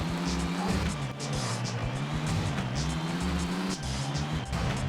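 A car engine in Tony Hawk's Underground on PS2 hums steadily as the revs rise and fall. A few sharp bursts cut in, as if from crashes or tire noise, and no one speaks.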